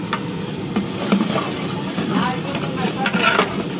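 Masala and bay leaf roast and sizzle in a pan for a wedding cook-up, a close crackling fry with stirring scrapes and soft hiss, fairly short and steady.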